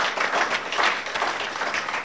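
Brief burst of audience applause at an official launch event for a doctors' collective, a dense wash of clapping that stays fairly loud and even for its whole short length.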